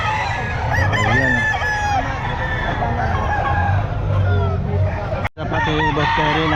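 Chickens and roosters at the Bocaue pet market crow and cluck loudly and continuously, several birds overlapping against a murmur of crowd chatter and a brief dropout near the end.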